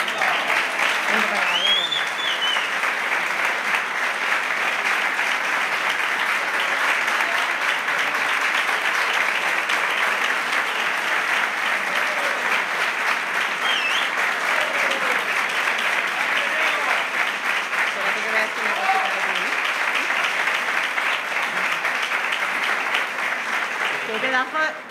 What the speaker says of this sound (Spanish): ¡Qué pedazo de aplauso